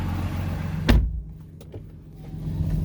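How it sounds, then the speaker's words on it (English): Power-deploying running boards on a lifted 2014 Ram 2500 Laramie 4x4 truck, a sharp mechanical clunk followed by a short motorized whir and a couple of faint clicks against a low idling hum. "These are power deploying running boards, which are super nice on a lifted truck."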